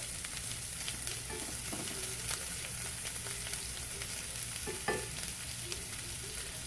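Corn kernels cook in a hot pan until slightly charred, giving a continuous close sizzle broken by stirring scrapes and a few sharper clicks, with no voices.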